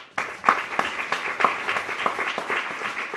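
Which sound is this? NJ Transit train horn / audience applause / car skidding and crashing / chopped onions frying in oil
audience applause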